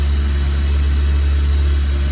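A Renault Logan car engine idles steadily and close by after starting, a constant low rumble with no speech over it.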